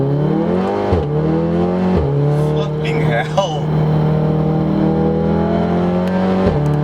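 A Volkswagen Golf R accelerates hard, its loud close engine note climbing steadily and dropping briefly at gear changes, while a man exclaims over the noise.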